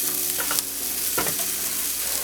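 Flour and dried thyme stirred in a hot pan with pork chops, a steady loud sizzle under brief scraping strokes of a utensil, close up.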